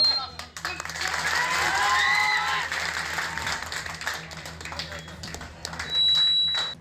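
Supporters of a Congress party candidate clapping in a crowd at a political gathering, steady applause swelling loud then thinning, with a high electronic beep near the end.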